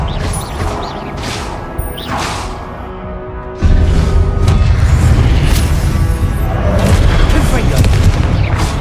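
An Expelliarmus disarming spell blast in a Harry Potter game hits with a sudden heavy boom that opens into a sustained loud, crashing rumble, following a stretch of lighter magical whooshes and chimes.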